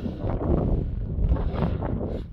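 Strong wind roars and buffets against the microphone atop a 1523-metre mountain peak in Krasnoyarsk Krai, a continuous loud gusting rush with no voices.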